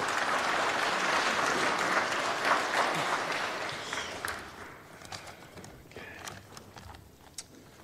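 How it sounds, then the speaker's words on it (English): Audience applause fills an awards ceremony for Pacific youth, a dense steady clapping for the first four seconds that then thins into scattered claps and fades, with no voices over it. "A round of applause for Keith Toba."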